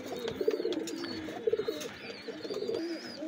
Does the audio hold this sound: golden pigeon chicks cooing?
yes